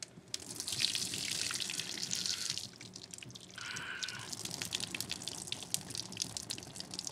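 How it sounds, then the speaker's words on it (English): Rice rinse water pours into a kitchen sink drain, a close, steady gush of splashing water that breaks off for a moment partway through, then resumes as a thinner trickling stream. "All right, down the drain it goes."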